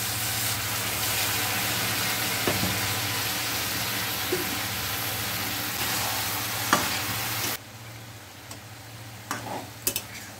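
Water goes into a hot pan of spiced paneer pulao, setting off a steady sizzle and bubble with occasional clinks of stirring, then quieting to a softer simmer.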